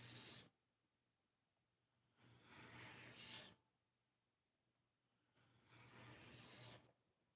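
A Civivi Elementum folding knife, its blade heat treated hard, is drawn across a sharpening stone in two long rasping strokes with a short scrape at the start, each stroke separated by quiet pauses.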